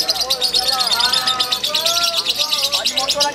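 A lovebird sings in an outdoor bird song contest at a police-unit cup event in Bengkulu, pouring out rapid, high chirping trills over a steady noisy background of other birds and crowd.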